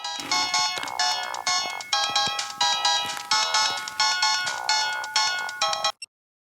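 A telephone ringtone plays in a repeating melodic chime pattern, close and clear, cycling several times before cutting off abruptly near the end.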